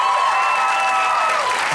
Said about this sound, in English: They applaud for anything